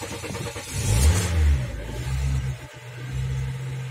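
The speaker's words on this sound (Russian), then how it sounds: "Сейчас посмотрим, заведется, нет. Так, ну чё, запускаем." A car engine cranking and catching after sitting idle for ten days, with a surge of revving near the start that settles into a lower, steady idle, heard close and without voices.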